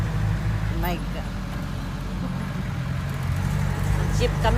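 A jeepney ride through busy Cebu City traffic, with a steady loud engine rumble and road noise throughout and a few faint horn-like tones cutting in, close and continuous.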